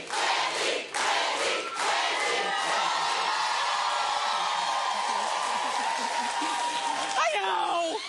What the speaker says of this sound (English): Nothing beats the roar of the crowd.